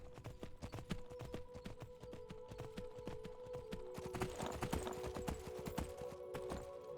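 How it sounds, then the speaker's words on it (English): Horse hooves clip-clop steadily in the Skyblivion video game, a fast, even rhythm of hollow hoofbeats under a faint hum and a quiet background. "I've never rode a horse bareback, but I imagine this would be quite painful."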